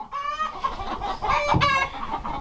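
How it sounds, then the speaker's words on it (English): Broody hens cluck and grumble up close, with harmonic calls overlapping in a busy, continuous murmur. "we ended up with 2 broody hens in here"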